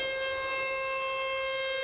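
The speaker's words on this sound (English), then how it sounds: "Everybody's familiar with tornado sirens since they have been around for years" A tornado siren holds a loud, steady wailing tone with strong harmonics, continuous and alone with no voices.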